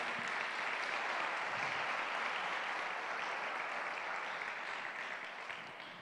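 Congregation applauding inside a church, a dense, steady wash of clapping that holds evenly for several seconds before tapering slightly at the end, fairly distant and moderate in level.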